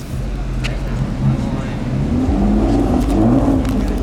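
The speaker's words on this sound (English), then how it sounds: "Lamborghini SUV pulling up" A Lamborghini SUV pulling up outdoors among exotic cars, a low engine rumble that swells slightly as it approaches, heard beneath a voice.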